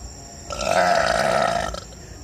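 A single long, loud burp from a woman, rumbling for over a second up close before cutting off, with no talking.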